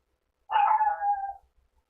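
A single dog bark or yelp, close by in a room, a short voiced burst lasting about a second with a slight trailing tail, heard alone.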